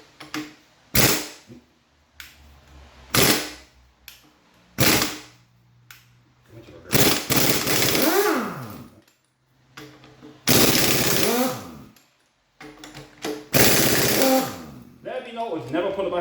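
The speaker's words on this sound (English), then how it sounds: "So ideally you should never use an impact gun to put anything on." An impact gun zaps clutch bolts off a Triumph TR6 engine in a workshop, loud repeated rattling bursts of a second or so each, separated by short pauses and light clinks.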